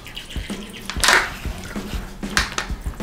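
Dirty water is poured out of a small tub, giving a splashing gush with a few knocks and drips, close by, and no talking over it.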